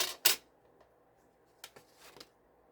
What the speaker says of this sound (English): we're gonna make the hole with our little tiny embroidery scissors